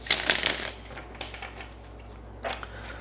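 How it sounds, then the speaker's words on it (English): A deck of tarot cards is shuffled by hand close to the microphone, a burst of crisp riffling flutters at first, then softer scattered card sounds and a brief second riffle. "Let's get one quick shuffle."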